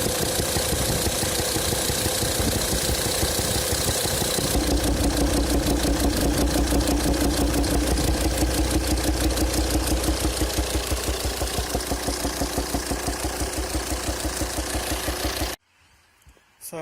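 A 2007 Volvo XC90 D5 185 bhp diesel engine idles up close with a rhythmic popping and ticking pulse running through it, then cuts off abruptly near the end.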